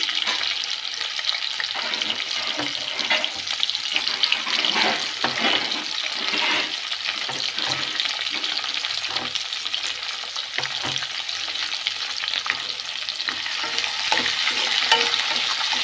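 Onions and green chillies fry in a kadai, a steady loud sizzle with constant stirring and scraping running throughout, close up and without a break.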